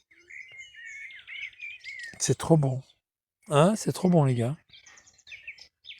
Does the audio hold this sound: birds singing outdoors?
yes